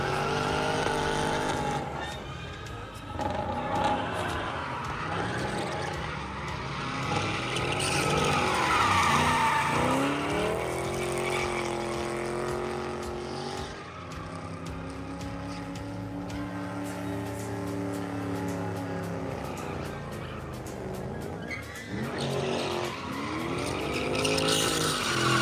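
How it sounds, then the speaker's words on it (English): Cars drift at a drift show competition, tires squealing and skidding in long wavering screeches over engine roar, with continuous dense noise that swells and fades as the cars slide past. "We had a drift show competition."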